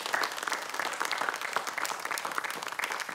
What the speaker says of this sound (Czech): Tak a pánové, potlesk,